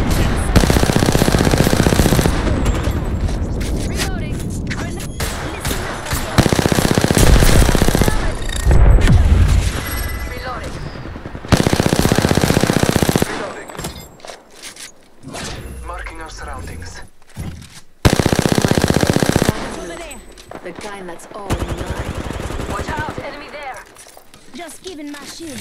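Automatic gunfire in the Apex Legends battle royale game comes in loud, dense bursts with heavy booms and thuds, recurring through the fight while players talk over it.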